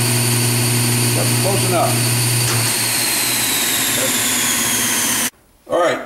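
Wood lathe spinning an inlay blank, a steady mechanical whine and hum under a spoken voice, running continuously before cutting off abruptly near the end.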